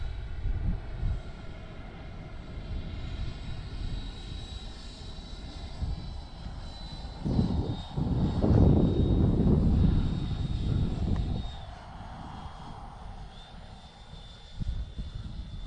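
A Freewing Avanti S RC model jet cruises slowly past, its ducted-fan whine holding steady at a distance, then swelling louder as it comes near and fading away again, with no voices.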